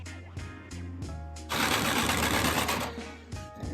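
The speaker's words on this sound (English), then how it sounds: "And then I'll take the jigsaw and cut the hole out." A jigsaw cuts a hole in a camper van's roof for a Maxxair fan install, a loud dense buzzing burst of about two seconds following brief stuttering starts of the motor.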